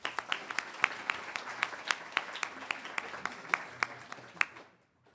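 A small audience at an internal medicine residency graduation gives a brief round of applause, a few distinct hands clapping in a quick irregular patter that stops abruptly after about four and a half seconds.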